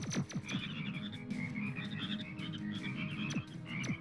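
Video game frogs croak repeatedly in a busy chorus, with rhythmic chirping calls over a steady low rumble and occasional sharp clicks.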